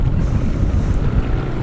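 A small homemade motorboat running on water, a steady low motor drone mixed with wind buffeting and water noise, continuous and close.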